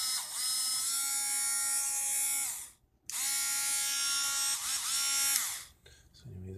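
Tesla turbine pump spinning at high speed, a loud whining electric motor that runs, stops briefly, spins back up and winds down again, heard up close.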